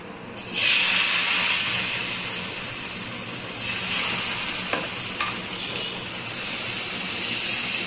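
Rava dosa batter poured onto a hot oiled frying pan bursts into a loud, sudden sizzle that settles into a steady, close hiss with a few faint clicks, and no one speaks.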